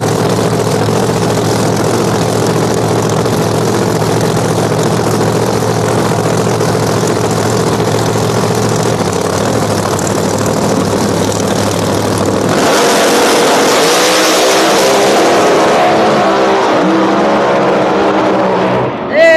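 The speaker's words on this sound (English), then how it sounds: "Great drag race there, but Nate Saylor gets to the finish line" Loud engine roar of no-prep drag race cars launching down the strip, a sustained low rumble that shifts into a brighter, rising surge of acceleration partway through.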